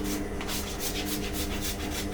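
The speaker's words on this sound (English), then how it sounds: "let's see what happens when I try to scrape it off" A scraper rubs across a glue-coated PEI sheet on a 3D printer bed, giving a steady, close rasping scrape with rhythmic back-and-forth strokes and no talk.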